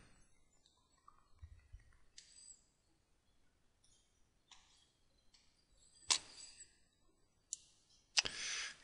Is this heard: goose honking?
no